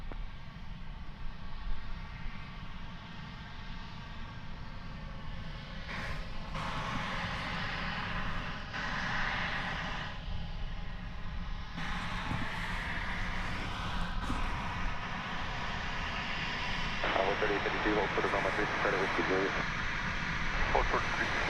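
A Frontier airliner on its takeoff roll from runway 36 right at DFW Airport, a broad steady jet roar that holds for the whole stretch, heard at a distance under intermittent air traffic control radio talk.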